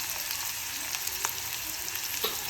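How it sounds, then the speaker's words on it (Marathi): Onion frying in hot oil with cumin and mustard seeds in a kadhai, a steady close hiss of sizzling with a few brief crackles and stirring scrapes throughout. "कढईमध्ये तेल गरम करत ठेवलेलं आहे, याच्यामध्ये जिरे मोहरी टाकलेले आहेत, कांदा भाजायला घातलाय"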